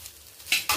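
Egg fried rice is tossed in an iron wok, with two quick scraping stirs rising over a faint sizzle, close by.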